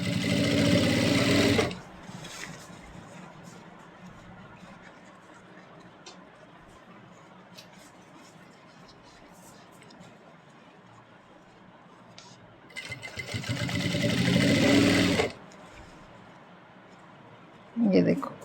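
Sewing machine stitching a kurti collar, running in two loud bursts of a couple of seconds each and a brief one at the end, with someone talking during the quiet stretches between.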